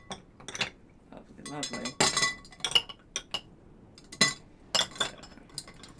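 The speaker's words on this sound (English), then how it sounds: "We'll get our ice in there" Ice cubes clink and rattle into a cocktail glass holding a squid ink drink, a run of sharp glassy knocks in bursts, close and fairly quiet, with a brief spoken remark among them.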